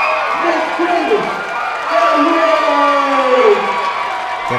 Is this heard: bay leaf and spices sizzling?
no